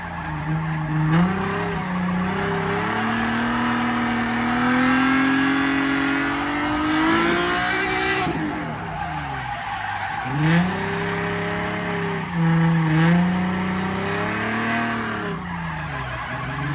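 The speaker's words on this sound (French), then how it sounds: "je reste sur la limite du dérapage de l'auto, c'est que je fais tout le temps travailler le pneu le plus possible" At a street clash competition, a car drifts at the limit of grip, its engine revving up and down in loud swells over continuous tire squeal and skidding, close and without voices.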